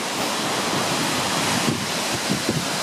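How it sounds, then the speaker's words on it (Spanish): A steady, dense roar of rushing water from Seljalandsfoss waterfall in Iceland, heard from its side, fills the whole stretch, loud and close, with no pauses. "Ya estamos en el lateral de la cascada."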